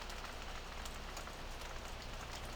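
Steady rain falls in the Farming Simulator game, a dense, even hiss of drops on surfaces that holds constant and fairly quiet throughout, with no voices over it.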